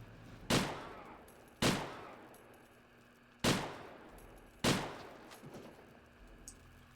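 Four sharp gunshots from a shooter video game crack out at irregular intervals, each loud with a quick decaying tail, heard on their own with no talking.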